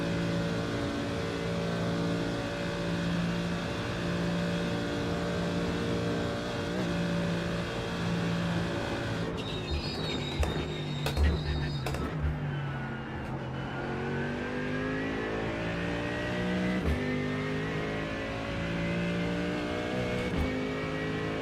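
A Porsche race car in the iRacing game holds a loud, continuous engine drone with a sustained steady pitch, and brief clunks of gear changes come midway before the revs climb again.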